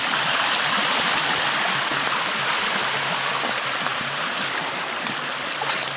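A creek flows steadily at Eternal Flame Falls in Chestnut Ridge Park, Orchard Park, on a winter hike, a close, continuous rush and trickle of water with no voices.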